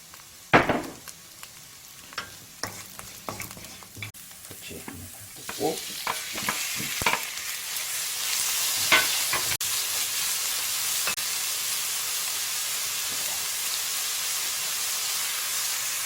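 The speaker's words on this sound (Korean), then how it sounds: "파기좀 내다가 마늘 조금 넣어가지고 같이 좀 볶고" Green onion and garlic stir-fry in a pan for seafood jjamppong: scattered clinks and scraping of a utensil give way to a steady sizzling hiss of frying, close and moderately loud.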